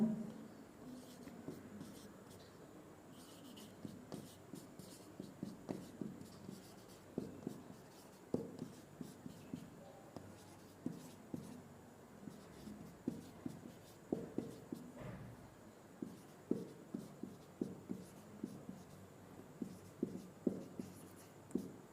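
Chalk or marker writing on a board during a Hindi trigonometry lesson on complementary angles, heard as a steady run of short scratchy strokes, close and fairly quiet, with no talk over it.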